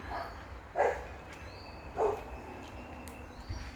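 A neighbor's dog barks three times outdoors near a house driveway, muffled and fairly distant, each bark well spaced over steady background hiss and faint bird chirps.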